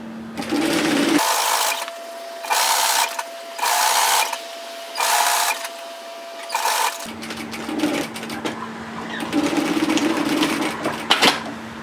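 A sewing machine stitches a dress hem down through the overlocked seam line, running in several short, loud bursts separated by brief pauses, then a longer steady run.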